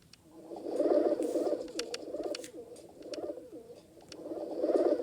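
Pigeons in a pigeon video game coo in soft, rolling phrases that swell and fade in waves, with faint clicks and taps over a quiet background.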